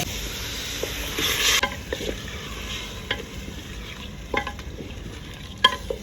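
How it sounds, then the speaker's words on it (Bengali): Continuous sizzling of chicken frying in a pan, with occasional clinks and scrapes of stirring, close up. "কষে নেবো একটু"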